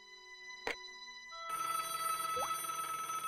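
A telephone rings in the point-and-click video game Broken Sword: The Shadow of the Templars, a steady electronic trilling ring starting midway and continuing at moderate volume, preceded by a brief click, with no talk.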